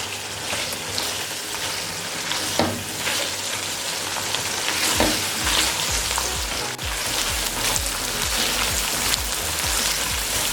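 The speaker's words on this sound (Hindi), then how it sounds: "अब मज़ीद इसे 2 मिनट के लिए भून लेंगे" Aloo palak, potatoes and spinach, fries steadily in a pan with a constant dense sizzle and a few louder stirring scrapes, close and alone with no talking.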